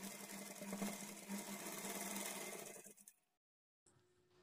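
A sewing machine runs steadily while stitching a blouse up to the shoulder, a close continuous motor whir with rapid needle clatter for about three seconds, then it stops, followed by a brief quiet gap and faint handling.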